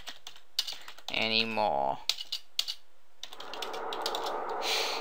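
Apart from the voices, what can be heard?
typing on a computer keyboard to write a Minecraft sign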